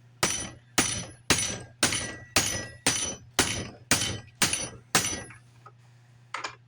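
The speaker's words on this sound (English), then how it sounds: "get the bigger hammer again" Ten sharp metallic hammer blows on a trailer wheel bearing race land in a steady rhythm, each ringing briefly, followed by a pause and one lighter tap.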